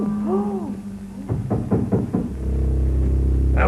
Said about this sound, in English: Then there was a knock at the door.